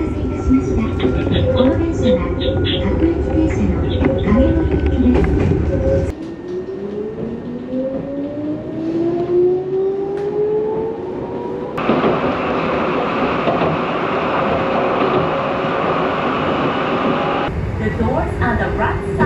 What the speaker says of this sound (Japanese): 次に入線してくる一番線の秩父鉄道は影森行きの電車になります。